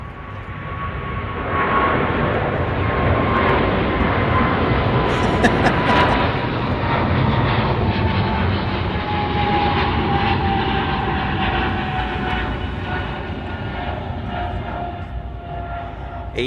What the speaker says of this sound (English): Here goes Japan Airlines with the 777.